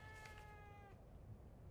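A house cat gives a single drawn-out meow, close and clear, lasting under a second before it fades into faint room noise.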